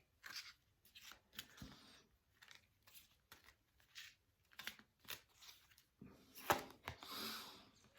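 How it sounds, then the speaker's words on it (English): Crisp papery riffling and slapping of tarot cards being shuffled, in quick bursts with short pauses, close by and fairly quiet, with a sharper burst near the end. "I'm going to shuffle the cards"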